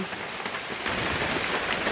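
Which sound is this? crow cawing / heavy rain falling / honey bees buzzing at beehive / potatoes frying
heavy rain falling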